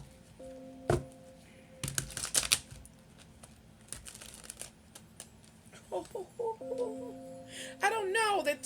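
Tarot cards being shuffled wildly and loosely by hand, with scattered soft riffling bursts and taps at close range, mixed with intermittent clicks and brief voice sounds during a live stream.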